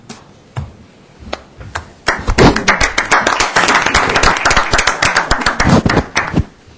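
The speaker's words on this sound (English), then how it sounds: "We can clap for ourselves." A few scattered claps open into steady, fairly loud applause from an audience at a Garden Grove city council meeting, with many hands clapping together before it tapers off.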